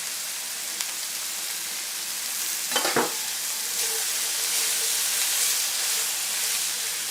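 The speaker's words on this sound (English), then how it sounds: "I want my onions browned here and the mushrooms reduced a fair bit." Onions and mushrooms fry in a pan with a steady close sizzle, broken by a brief clatter of stirring or a utensil knock partway through before the hiss settles again.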